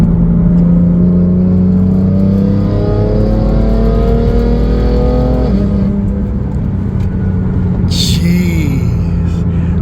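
BMW M3 fitted with a Valvetronic exhaust revs hard and loud up close, engine pitch climbing steadily then dropping, with a brief raspy burst near the end.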